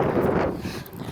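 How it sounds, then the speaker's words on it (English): Gusty wind on a windy day near trees buffets the microphone in a steady, close, rumbling rush with no pause. "it's a pretty windy day."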